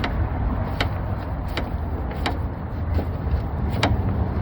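A socket wrench turns a lower radiator bolt on a 1987 Corvette, giving a series of sharp ratcheting clicks at irregular intervals, close and fairly faint over a low background rumble.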